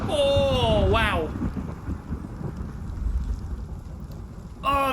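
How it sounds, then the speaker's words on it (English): Steady rain with a low thunderstorm rumble in the video game Road to Vostok, a continuous wash of noise that runs throughout, with brief tonal in-game sounds at the start and end. "The rain could be a little bit heavier though. If we're in the middle of a storm"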